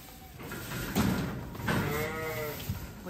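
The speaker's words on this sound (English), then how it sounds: "So this is a bit of a mixture of lambs and ewes." Sheep bleat from a mixed group of lambs and ewes on a snowy farm, with several wavering calls overlapping close by against steady outdoor background noise.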